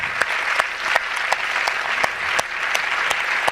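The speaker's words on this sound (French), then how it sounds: "je pense qu'ils méritent un très très grand applaudissement" Audience applause for the film's protagonists at a human rights film festival forum, steady dense clapping throughout with sharp individual claps standing out, moderately loud and close.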